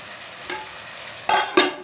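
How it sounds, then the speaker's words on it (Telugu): Eggplant pieces fry in a hot pan, with a steady sizzle and a few sharp scraping stirs near the end. "ఇదిగో వంకాయ ముక్కలు తిప్పాను కదా"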